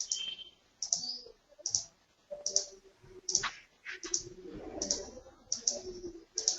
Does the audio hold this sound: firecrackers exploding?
no